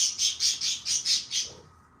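Pet birds in a sunny living room chirp in a quick, regular series of about seven shrill calls close by, then fall quiet.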